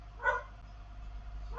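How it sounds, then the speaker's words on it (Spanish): A neighbour's dog barks at a distance, two faint, short barks spaced over a second apart, heard alone over a low steady hum. "Mi vecino de su perro está ladrando."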